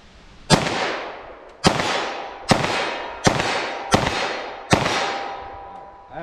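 Six .357 SIG handgun shots fired at a target range, each a loud, sharp crack with a ringing decay, spaced roughly a second apart.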